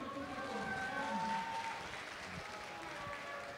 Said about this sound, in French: Je vous demande d'applaudir Farod et Tartinex